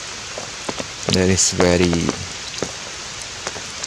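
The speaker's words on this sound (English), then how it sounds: "And right now it is raining too." Rain falls with a steady, fine hiss on surfaces outdoors, a continuous wash under a voice speaking close by.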